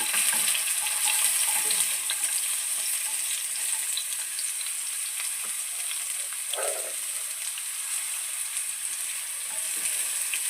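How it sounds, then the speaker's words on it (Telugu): Sliced onions, cinnamon and cumin seeds fry in hot oil for a village-style chicken curry, a steady close sizzle with faint stirring clatter and no talk. "ఆయిల్ వేడైపోయింది పట్ట జీలకర్ర వేస్తున్నాను తరిగి పెట్టుకున్న ఆనియన్ వేస్తున్నాను"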